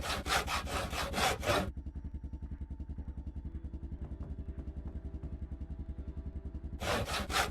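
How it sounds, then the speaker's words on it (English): Logs being sawed by hand in the video game Project Zomboid, a loud rhythmic back-and-forth rasp in regular fast strokes, briefly dropping to a quieter steady grinding before the strokes return. "Sawing logs on top of a floating floor."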